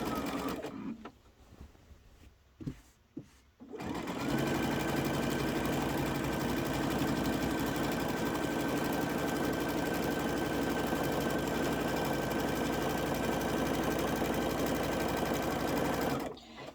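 A sewing machine quilting a wavy stitch on a frozen-themed quilt starts after a few brief clicks and then runs steadily, loud and continuous, with an even mechanical hum for about twelve seconds before stopping.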